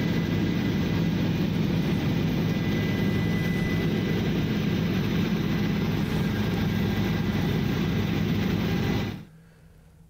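Inside a helicopter carrying an elderly grandfather on a ride, loud, steady engine and rotor drone fills the cabin with an unbroken roar, then drops abruptly to near silence just before the end.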